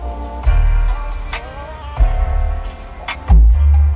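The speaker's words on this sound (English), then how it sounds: "The music on this particular car is courtesy of Harman Kardon." Music plays through the 825-watt Harman Kardon premium sound system inside a Subaru Outback, loud and full with steady bass and bright transient hits, heard alone.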